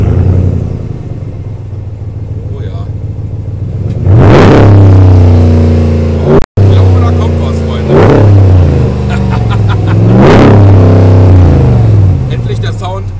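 A car engine cranks and fires up outdoors, then idles with a deep rumble between three sharp, loud revs. Someone talks over it.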